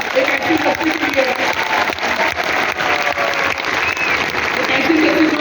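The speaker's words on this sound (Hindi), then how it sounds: "तो तालियां होनी चाहिए एक बार एक ऐसी इंडस्ट्री के लिए" Audience applause at an IMC business plan seminar, a steady dense wash of clapping from a large crowd that holds loud and even throughout, with some speech mixed faintly underneath.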